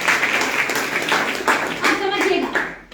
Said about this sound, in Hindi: एक बार ताली बजा दीजिए।